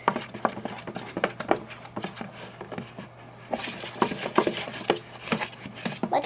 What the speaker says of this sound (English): we're just gonna mix the glitter in